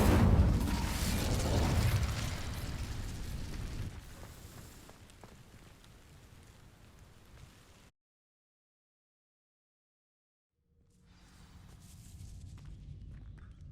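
An Incendio fire spell is cast in the video game Hogwarts Legacy, bursting out loudly at once, then fading into quieter rumbling and mechanical clatter before cutting to silence; low ambience returns near the end.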